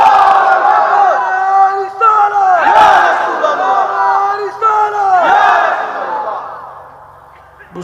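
A large crowd at a Bangladeshi waz gathering roars the takbir back to a preacher in loud, drawn-out chanted shouts, repeated about three times in quick succession before fading.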